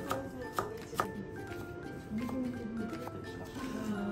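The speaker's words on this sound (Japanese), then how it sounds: "まずは食材を切るよ" A knife taps sharply on a cutting board a few times, then softer chopping of vegetables for chanko nabe continues under a quiet voice.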